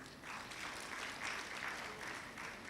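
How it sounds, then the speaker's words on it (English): Audience applause at a central bank suppliers' conference, a steady, moderately faint patter of many hands clapping continuously without a break. "I think we need to clap for this."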